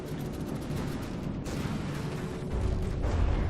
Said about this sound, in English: Good explosions there.